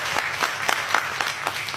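Audience applause during a speech at a temple programme in Kerala, a brisk crowd clapping with a few distinct sharp claps over a softer dense patter, moderately loud and brief.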